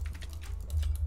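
Fast, steady clicking from a new computer keyboard used for Minecraft PvP, a dense run of light key taps over a constant low hum, close and fairly quiet.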